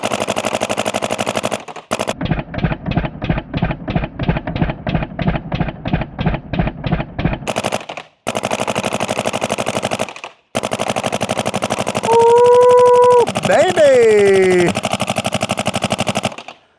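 A Dye Dam paintball marker with a Box Rotor loader fires full auto in a rapid, even string of loud pops, followed after brief pauses by more bursts and a whirring, shifting mechanical whine near the end.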